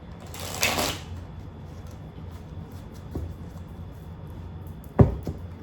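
Tarot cards are shuffled nearby in a quick papery riffle, followed by quiet shifting and a sharp tap as the deck is squared.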